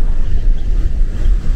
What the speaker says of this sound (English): It is super, super windy here.